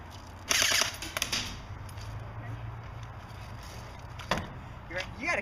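An airsoft gun fires a short burst of sharp, snappy shots at an outdoor field, followed by a single isolated shot a few seconds later, over faint background noise.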